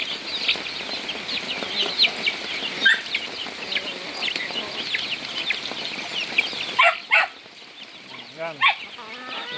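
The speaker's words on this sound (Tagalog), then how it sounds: "Sa umaga, sa hapon, magpatuka ng manok" Chickens clucking and squawking in a rural Laguna yard at feeding time, a dense busy chatter with a few louder calls and wing flaps, then a quieter stretch near the end with isolated clucks.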